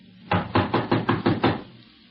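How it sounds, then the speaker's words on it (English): Knocking on a locked door, seven evenly spaced firm raps close by, with no voices. "Well, let's try knocking."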